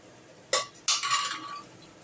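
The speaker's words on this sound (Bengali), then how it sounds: "আমি কিন্তু জল শুদ্ধই হাতায় করে ছোলাগুলো এর মধ্যে অ্যাড করছি" Boiled chickpeas scooped with their cooking water from a pressure cooker into a pan with a ladle, giving two sharp metallic clinks of ladle on pan followed by a brief wet rattle, close and alone.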